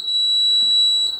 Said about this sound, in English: It'll beep a few times and it'll start flashing